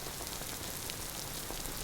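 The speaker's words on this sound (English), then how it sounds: "We have the rain that we can test." Rain in the 2007 video game Interstellar Marines falls as a steady, even hiss of dense drops on a surface, quiet and unbroken throughout.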